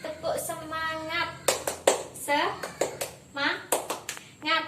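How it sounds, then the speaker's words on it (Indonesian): Children and a teacher perform the tepuk semangat clapping game in a classroom, with sharp rhythmic hand claps in short bursts between chanted voices. "Tepuk semangat."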